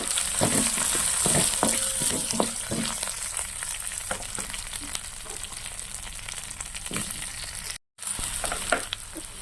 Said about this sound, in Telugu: ఇప్పుడు ఇది ఇందులో వేసేసుకోవాలండి బంగాళం ముక్కలు